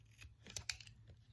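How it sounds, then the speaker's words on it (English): Scissors trimming jagged edges off paper heart pieces for a handmade Valentine's card, a few quick close snips, quiet and with no talking. "you just get your scissors in there,"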